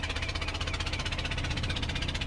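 A tour boat motors across Lake Eğirdir, its engine throbbing in a steady, fast, even pulse that stays loud and close throughout with no voices over it.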